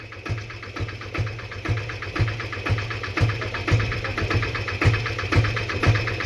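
A tractor engine idles steadily with a regular knocking pulse about twice a second, loud and close, with no talking.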